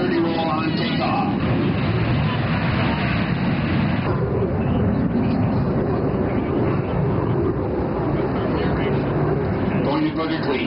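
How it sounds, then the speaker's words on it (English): An aircraft takes off and rolls at an air show with its landing gear extended, a steady, loud broadband roar that carries on throughout while a voice talks over it. "Accelerate to 170 miles per hour and climb to an altitude of 50 feet. He will then roll his aircraft 360 degrees with the landing gear extended."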